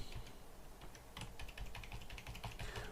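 Close fingers type quickly on a computer keyboard, a dense, continuous patter of key clicks with no voices.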